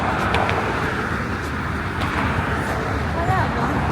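Road traffic in New York, a continuous broadband roar of passing cars and buses close by, with a few brief higher accents over the steady rumble.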